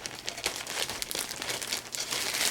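Heavy plastic packaging crinkling and crumpling as an arcade game panel is unwrapped, a steady close rustle with sharp crackles and brief tearing throughout.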